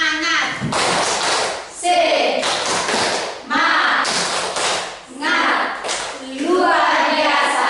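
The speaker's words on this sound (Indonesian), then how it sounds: "Tepuk semangat." A classroom group performs the tepuk semangat rhythmic clap, bursts of patterned clapping and tapping broken by short pauses, with chanted voices running along with the beats.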